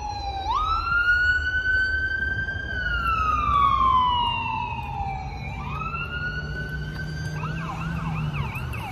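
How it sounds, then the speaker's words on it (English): An ambulance siren wails loudly and close by, its pitch sweeping slowly up and down, then shifts into a faster yelping pattern near the end over steady traffic rumble. "ambulance"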